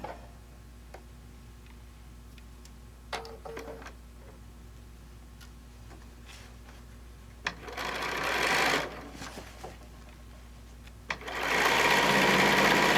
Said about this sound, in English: I'm sewing with the fleece side up, the lining underneath.